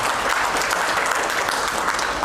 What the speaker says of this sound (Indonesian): Tepuk tangan untuk owner kita yang luar biasa